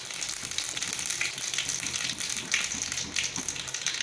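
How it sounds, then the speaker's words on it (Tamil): Mustard seeds and chana dal sputter and crackle in hot oil in a pan, a steady, close hiss dense with fine pops that runs without a break and has no voices over it. "கடுகு நல்லா பொரிஞ்சு வரட்டும்."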